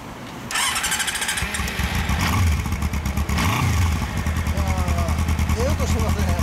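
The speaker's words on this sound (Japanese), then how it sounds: "400のエンジン音聞かせてもらえますか。" A 400cc motorcycle engine starts up close by and settles into a loud, steady running idle with a few revs, while someone talks briefly near the end.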